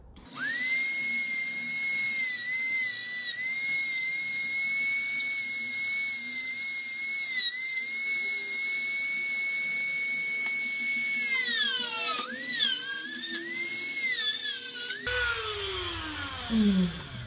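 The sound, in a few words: Dremel rotary tool cutting a shell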